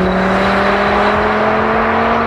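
A Porsche Carrera GT's naturally aspirated V10 engine holds a steady, loud, close droning hum with a buzzing tonal note and no clear revving.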